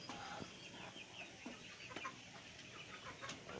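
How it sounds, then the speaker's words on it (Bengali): Egg-laying hens feeding on a farm cluck softly and intermittently, a quiet flock sound with scattered short calls over low background noise. "এই যে মুরগিগুলো খাচ্ছে সামনে দেখতেছেন ভিডিওতে, এই মুরগিগুলো আবার ডিম পাড়া মুরগি, এরা ডিম দেয়।"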